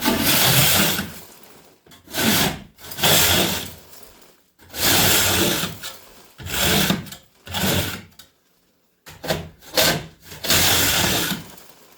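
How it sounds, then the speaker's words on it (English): A tool scraping textured ceiling coating off overhead, in repeated long strokes with short gaps, close and steady with no talk. "can see it just scrapes it off real nice."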